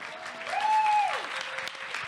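Closing-ceremony crowd at the ANE 2017 convention claps steadily for about two seconds, with a thin tonal whine rising and falling through the middle of the applause.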